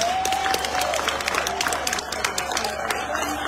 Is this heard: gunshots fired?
no